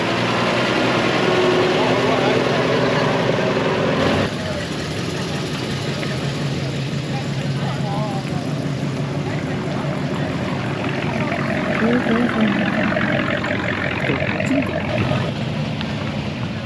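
A truck engine idling at a car show as vehicles roll in: a steady, close rumbling drone that runs throughout, with people talking over it.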